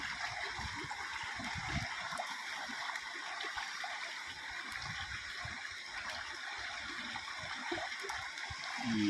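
River water flows steadily beside an outdoor riverside meal, a continuous rushing hiss with bubbling and splashing spatters throughout, fairly near and moderately loud, with no talking.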